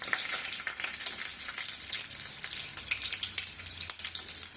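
Onions frying in hot oil with cumin seeds, mustard seeds and broken dried red chilies, giving a steady, close, dense sizzle with crackling pops throughout, alone with no talking.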